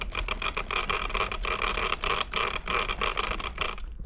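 Loose dog bones on an Arrma Talion 6S truggy, a close, busy metallic rattle and scraping clatter that keeps pulsing in quick uneven bursts.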